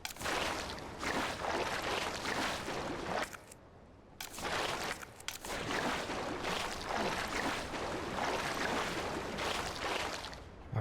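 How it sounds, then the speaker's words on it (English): A rushing waterfall in the video game Resident Evil 2 (2019) makes a dense, continuous roar of falling water. It dips briefly in the middle before surging back to full strength. "There is a waterfall, don't go down it, John."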